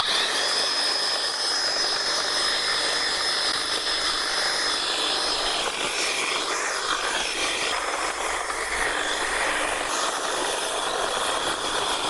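A GTM HT56/560BL cordless hedge trimmer cuts through cherry tree branches with a steady, loud, close motor buzz and a thin high whine that holds throughout, with no talking.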